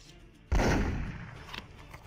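A single loud gunshot rings out in the VRChat adventure world Dark Waters, a sudden close blast with a long fading reverberant tail after a quiet start.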